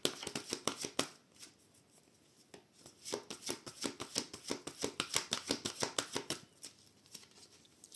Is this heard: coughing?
no